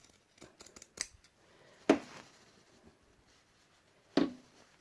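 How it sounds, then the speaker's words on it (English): Pinking shears snip through fabric in a few crisp, close cuts, one cluster of quick small snips followed by two louder, sharper bites spaced apart in a quiet room. "And here's our pinking shears."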